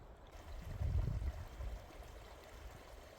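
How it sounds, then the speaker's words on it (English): Low, steady stream flowing beside a campsite on pine duff along the Pacific Crest Trail, a soft continuous watery rush that swells briefly near the start and then settles into a gentle, even murmur. "I've got a stream just there"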